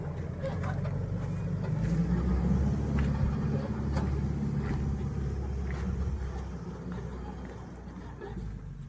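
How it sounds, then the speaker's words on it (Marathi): A vehicle engine drones steadily as it is driven off a raised earthen bund at the edge of a farm field, the rumble easing toward the end. "आता धुऱ्यावरून काढतो गाडी"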